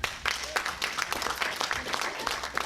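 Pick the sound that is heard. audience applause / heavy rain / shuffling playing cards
audience applause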